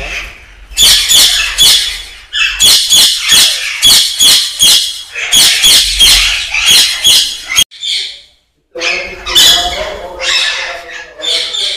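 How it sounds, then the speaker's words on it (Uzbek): Caged birds in a bird nursery squawk loudly and repeatedly in harsh, rhythmic bursts, close by, with a short pause near the end before the calling resumes. "Bu yoqda ham juda chiroyli qushlar bor."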